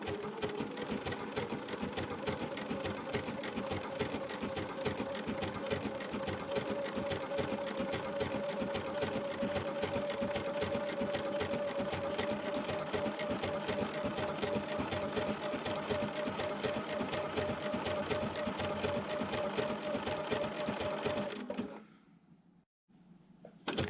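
A sewing machine stitching quilt fabric runs continuously at a steady, fast rhythmic whir for about twenty seconds, close by, then stops abruptly into near silence.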